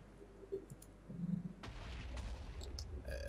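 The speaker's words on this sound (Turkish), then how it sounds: "Patlama seslerini duyuyorsunuz." Explosions in a modded Minecraft game, a series of low booms and rumbling bursts, with a stronger sustained rumble in the second half and some light clicks.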